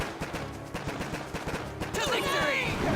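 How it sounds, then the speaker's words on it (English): A mortar and other defenses in the mobile strategy game Boom Beach fire a rapid string of sharp, evenly spaced gunfire-like shots, then a denser burst of blasts and whooshing effects sets in toward the end. "before the mortar starts shooting"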